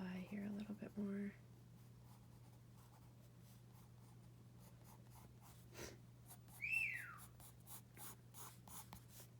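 A pencil sketches a bird on paper in a steady, faint, close scratching run, with brief soft talk at the start and a quiet whistle-like sound partway through.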